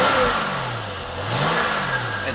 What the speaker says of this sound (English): Engine sounds nice.